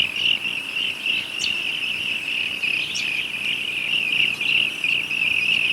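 Insects chirp continuously outdoors, a steady high-pitched trill with a few brief louder chirps rising above it, fairly close and clear.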